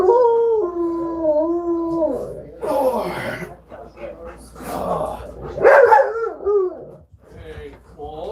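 A dog gives a long drawn-out howl that breaks into a string of barks and yips, loud and close, with people talking around it.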